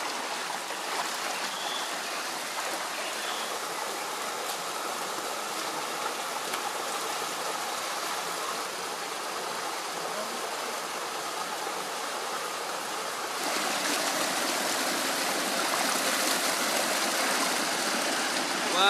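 Ambon-Ambon Falls in Laurel, Batangas pours in a steady, dense hiss of falling water that swells louder toward the end. It is heard alone, with no voices.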